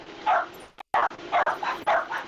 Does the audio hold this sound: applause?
no